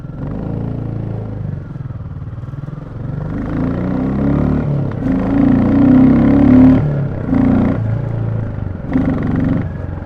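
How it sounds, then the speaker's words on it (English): A single-cylinder Royal Enfield Classic motorcycle engine idles with a deep, thumping exhaust, then revs up a few times in short bursts before settling back, loud and close. "The sound of the Royal Enfield Classic is absolutely amazing."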